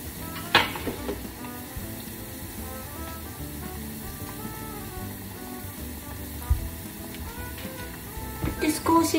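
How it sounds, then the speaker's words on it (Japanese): New onion slices in a light batter of tempura flour and water fry in a small pot of oil on a gas stove set to 160°C, giving a steady, close sizzle throughout. A few sharp clicks and clatters of utensils break in near the start and end. "揚げていきます。"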